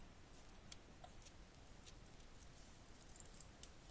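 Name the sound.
scissors cutting off excess material for miniature room box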